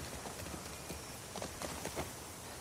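Horse hooves clip-clopping in The Last of Us Part 2, a faint irregular series of soft hoofbeats under steady background noise.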